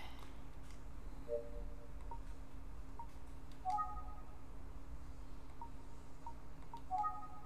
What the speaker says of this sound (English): I forgot I'm gonna call Kuze